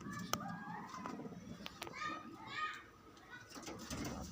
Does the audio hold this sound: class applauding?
no